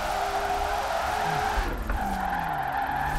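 A Nissan S14 drifting in Forza Horizon 4, played on a Logitech G920 wheel, gives a loud continuous engine drone with a shrill tire squeal sliding through shifting pitches. The car holds the slide without handbrake, brake or clutch kick.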